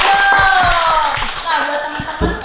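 A short burst of hand clapping from a small group, brisk and close, with a voice talking over it.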